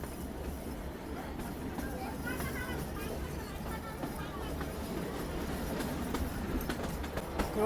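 A narrow gauge train running on the Bilimora to Waghai line in India, its steady low rumble and rattling carriage noise continuing throughout, with a voice talking over it and faint clicks from the rails.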